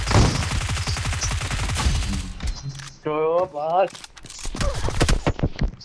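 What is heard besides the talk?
close-range shotgun fire in a video game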